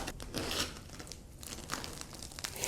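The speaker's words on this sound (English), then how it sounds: "Oh, it's crackly. I just need to cut down the middle." A knife saws down through the crackly crust of a cheesy no-knead Dutch oven bread, giving faint, close crunching and crinkling bursts, scattered and irregular.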